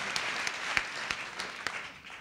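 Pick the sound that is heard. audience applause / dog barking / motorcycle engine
audience applause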